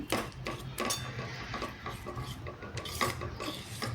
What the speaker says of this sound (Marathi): असं सगळीकडून हलवून घेतलं.